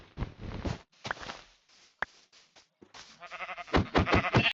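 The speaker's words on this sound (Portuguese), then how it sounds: "Já tem duas ovelhas aqui pra matar elas." Sheep in the Minecraft video game bleat in several short, wavering cries close by, bunched together in quick succession with brief pauses between them.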